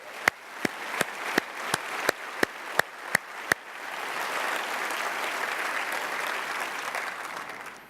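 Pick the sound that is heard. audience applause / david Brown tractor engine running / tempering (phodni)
audience applause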